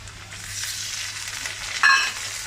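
Minced meat goes into a pan of half-fried onions, a close, steady sizzle and crackle swelling briefly near the end as it hits the hot oil.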